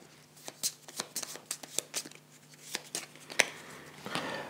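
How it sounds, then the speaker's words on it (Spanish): A deck of cards from the board game Mythwind is riffled and shuffled repeatedly, a string of crisp, quiet flutters and snaps close by, with faint talk in the background. "Esto lo vamos a barajar."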